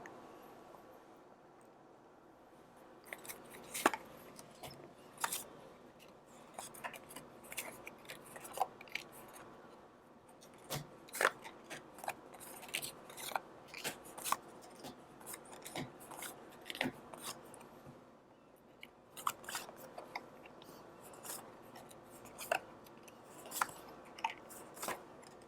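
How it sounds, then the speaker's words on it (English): Tarot cards are drawn and shuffled from a deck, giving a series of soft, close papery snaps, slides and rubbing flicks in an irregular rhythm, alone with no talk. "Now let's pull out the rest of these cards."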